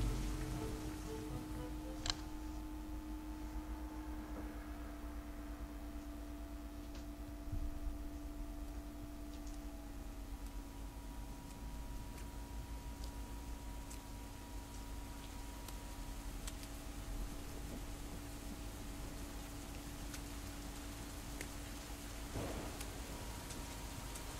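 A storm in the Over the Hills and Far Away video game, with a steady rainy hiss of sleet under a low droning hum and faint distant rumbles, with no voices.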